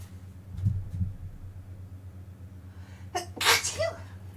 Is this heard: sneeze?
yes